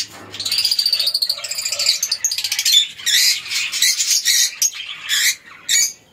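Caged lutino Fischer's lovebirds give shrill, rapid chattering calls and sharp squawks, loud and close, in quick repeated bursts that break into choppy chirps.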